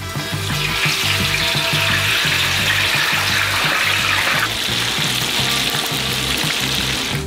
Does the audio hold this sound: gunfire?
no